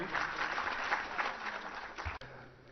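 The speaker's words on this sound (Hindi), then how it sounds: "अब्दुल रशीद खोखर, जोरदार तालियां इनके लिए।" Auditorium audience at a concert in Akashvani Auditorium, Srinagar, clapping for a former village headman introduced as a guest; dense, steady applause that stops abruptly near the end.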